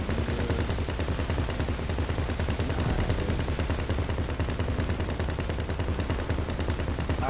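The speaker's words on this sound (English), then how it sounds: "Just shoot that target on top." Rapid video-game gunfire in GTA, a dense steady stream of close, loud shots firing continuously without pause, no voices over it.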